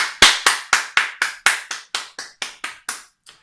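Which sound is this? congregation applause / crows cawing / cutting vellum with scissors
congregation applause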